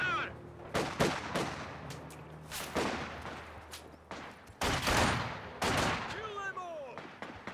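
Scattered rifle shots and bursts of gunfire crack across a Company of Heroes 2 battle with Soviet armor, some close and loud, some distant, with shouted voices over the fighting.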